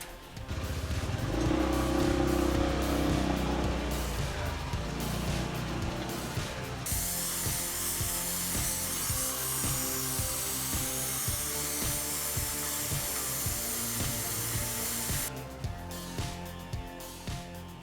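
Cutting during installation of a Mitsubishi Heavy Duty SRK air conditioner on hard material. A harsh, sustained power-tool whine runs for long stretches with abrupt starts and stops, alongside rattling mechanical clatter.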